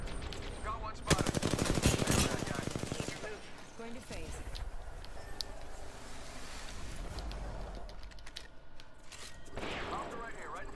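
Rapid machine-gun bursts and scattered shots in a team-based video game shooter, a loud sustained volley early on, then intermittent firing with voices talking over it.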